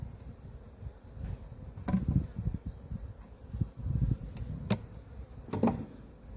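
Honeybees hum and buzz softly up close in a hive, with occasional knocks and rustles of handling frames mixed in.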